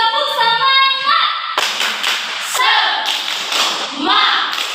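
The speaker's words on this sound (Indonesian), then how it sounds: "tepuk semangat" A classroom group performs a rhythmic spirit clap, loud sharp hand claps in quick patterned bursts mixed with children's voices chanting along.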